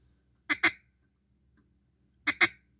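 Two pairs of short, sharp duck-call quacks, each a quick double note, separated by a pause; loud and close with nothing else around.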